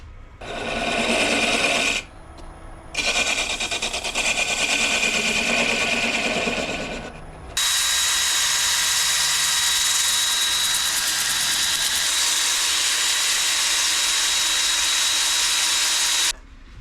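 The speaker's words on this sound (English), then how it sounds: "we'll get this finished up here and sanded down" A wooden snack bowl spinning on a woodturning lathe is sanded, giving a loud, steady abrasive hiss that breaks briefly twice, then runs on continuously for nearly nine seconds before stopping.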